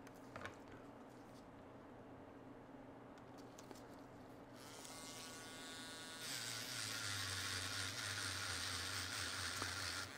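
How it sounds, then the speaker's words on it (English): An electric grinding pen working on an iPhone battery, whirring up after a quiet stretch into a steady high buzzing drone that grows louder and holds to the end, with faint handling clicks early on. "One of the things that sucks about this grinding pen is that the battery dies pretty easily."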